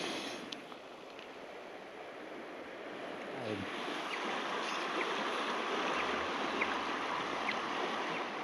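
A fast tidal river at Hessa Inlet in Alaska rushes and churns steadily, a broad continuous wash of moving water with some wind, close and unbroken for the whole stretch.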